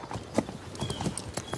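A ridden horse clip-clops in a period-drama scene, its hooves striking in an uneven trotting rhythm at moderate distance, with faint background sound and no talk.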